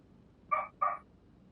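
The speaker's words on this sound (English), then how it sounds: "You can hear the dog." Dog barking in the background during a Car Mechanic Simulator 2021 livestream, two quick muffled barks in close succession, faint and somewhat distant, with no talk over them.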